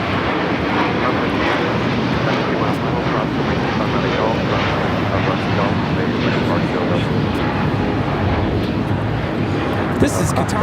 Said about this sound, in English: This is Qatar Airways 740 taking off to Doha on the A350 1000.